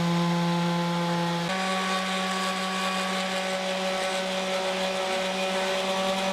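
A power sander works over a freshly glued wooden box built on a table saw, giving a steady close motor whine with a slight pitch drop partway through, continuous and without talk.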